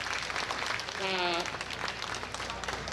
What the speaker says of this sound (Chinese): 来，我们掌声